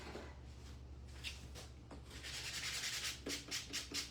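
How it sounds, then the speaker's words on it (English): 220 grit sandpaper rubs paint off the top and edges of a piece of furniture, giving faint close scratchy strokes that quicken into a run of rhythmic back-and-forth passes toward the end. "Okay, so 220 grit. Just go over the top, and then I'm going to just dress my edges like we always do."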